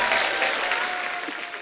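Studio audience at a Hindi television comedy show breaking into applause, a dense, even wash of clapping that holds steady and then fades slightly over a moment and a half.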